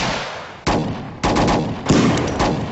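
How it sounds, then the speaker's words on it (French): Gunshots fired at police in a film, a few sharp, loud reports in quick succession, some doubled, over a steady rumbling background, with no talking. "Monsieur, je crois que c'est des flics sur qui on tire."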